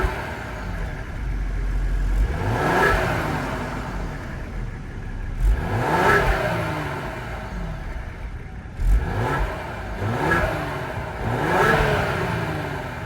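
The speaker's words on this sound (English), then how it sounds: "let's fire up this 3-liter twin turbo EcoBoost V6 and hear how she sounds" A 2022 Ford Explorer ST's 3-liter twin-turbo EcoBoost V6 is started and revved several times, each rise in pitch followed by a falling back toward idle, close and fairly loud with no talking.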